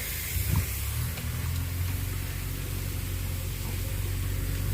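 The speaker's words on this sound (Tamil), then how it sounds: "இதைத்தான் இப்போ நம்ம அந்த செடிகளுக்கெல்லாம் ஸ்ப்ரே பண்ணுறோங்க" Pest-control solution is sprayed onto garden plants, a continuous close hissing spray that runs steadily throughout with a low rumble beneath and no talking.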